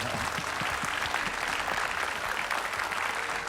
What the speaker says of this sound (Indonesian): Berikan tepuk tangan buat kita semua